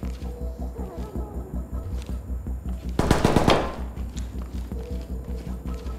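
A short, loud burst of machine gun fire in a video game breaks in partway through, set against a steady pulsing game loop and light background sounds before and after.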